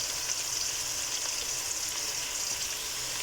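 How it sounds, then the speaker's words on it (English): Onions frying in oil in a pan for a njahi black bean dish, giving a steady, even sizzle with a fine crackling hiss that holds at a constant level with no talking. "So let's cook the onions and then we'll be back."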